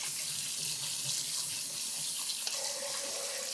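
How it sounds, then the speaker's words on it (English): Tap water pours steadily into a sink, rinsing soaked beans, a continuous close hiss and splash with faint clinks, no voices. "Give them a good rinse."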